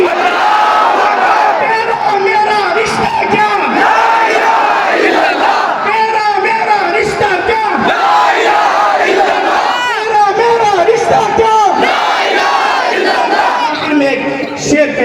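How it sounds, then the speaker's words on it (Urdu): A large crowd at a Muslim protest rally chants religious slogans such as "Nara-e-Takbir" in loud, rhythmic unison, voices rising and falling in repeated call-like bursts throughout. "اب میں نعرے لگاؤں گا، آپ میرے ساتھ نعرے لگائیے نعرے"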